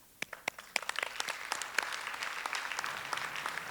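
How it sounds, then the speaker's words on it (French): A live audience at the CCNB stage show applauds the performers waiting backstage, starting with scattered individual claps that quickly build into dense, sustained applause filling the room. "Pour leur courage, il faut qu'on les applaudisse."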